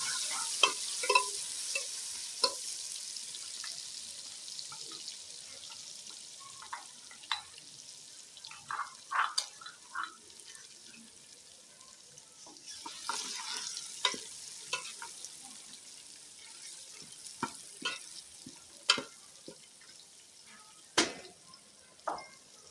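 Onions sizzle in a pan as garlic and red chili paste go in. A faint, steady frying hiss runs throughout, broken by scattered clicks and scrapes of stirring.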